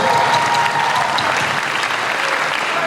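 A youth congregation at a church jamboree applauds, a dense, even wash of clapping that holds steady throughout without breaks.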